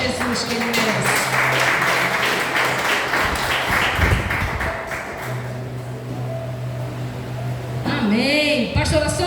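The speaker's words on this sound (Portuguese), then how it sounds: "Aplauda Jesus, que ele merece." Congregation at a church anniversary service clapping for Jesus, a broad wash of applause over a sustained low hum of music, with voices rising near the end.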